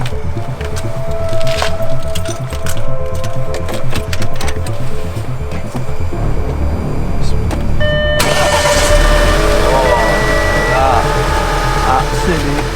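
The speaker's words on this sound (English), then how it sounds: "We're going to start the car and hopefully it should run nice and clean." An Audi A5 engine cranks over with a rhythmic starter churn, then catches around the eight-second mark and settles into a loud, steady running idle.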